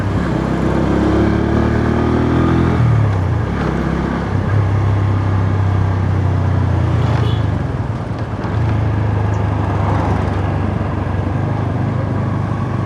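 A motorbike ridden along an unfamiliar road in Sri Lanka drones steadily close up, its engine rising in pitch then settling into a constant rumble with wind noise.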